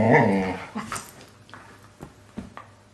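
Foster dogs up close making a low growl at first, then a few short whimpers and yips scattered through the quiet that follows.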